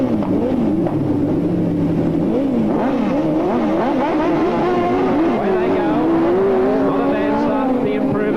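Speedway sidecar outfits at Newcastle Motordrome in 1985 rev and roar loudly at a handicap race start, engines whining and rising in pitch together, with a commentator talking over the din.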